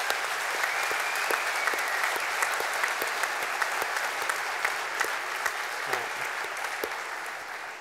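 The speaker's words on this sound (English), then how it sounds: "I want to get a round of applause for the people who volunteer to teach these children all over the world every week" An audience claps for volunteers who teach children, steady, dense applause that holds for several seconds and tapers slightly at the end.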